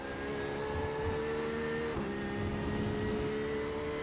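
A race car in the iRacing simulator spins out, its engine droning steadily at moderate level with a brief pitch dip midway, no talking.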